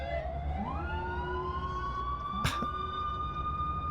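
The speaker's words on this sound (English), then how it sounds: "Okay, there's a lot of sirens in the city." Multiple emergency sirens wail across a city in the video game Cities: Skylines, overlapping rising and falling tones held steadily under a light background hum, with a brief sharp burst midway.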